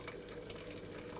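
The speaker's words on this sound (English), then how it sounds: "I'm going to pour in some just boiled water into the saucepan so that it comes about halfway up the side of the basin." Just-boiled water poured from a kettle into a saucepan around a pudding basin for steaming a sponge pudding, a steady close rushing gush running without pause and with no voices.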